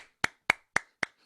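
A single person claps slowly, five crisp, evenly spaced hand claps about a quarter second apart, close and dry, during a talk-and-music show.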